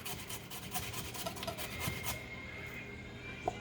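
Fresh ginger rubbed over a tiny hand grater in a home kitchen makes a quiet, steady rasping scrape that stops partway through and is followed by a faint click.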